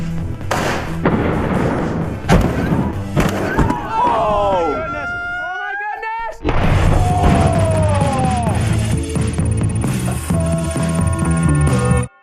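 A giant spiky mace smashes through a row of ten glass windows, giving several heavy crashing impacts spread across the stretch, loud and close, mixed with tonal background sounds and some voices.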